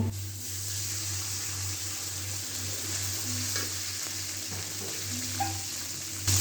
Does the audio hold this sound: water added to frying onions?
yes